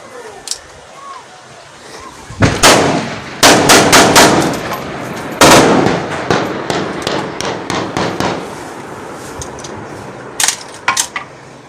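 Sharp gunshots ring out outdoors in upper Dir near Kumrat, several loud cracks in irregular bursts with echoes, some close together like rapid fire, with voices heard faintly in between.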